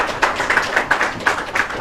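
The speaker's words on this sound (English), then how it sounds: "Please welcome him with a big round of applause" Brief light clapping from a small audience welcoming a speaker at a political meeting, a handful of sharp claps in a loose rhythm, fairly close and without talk.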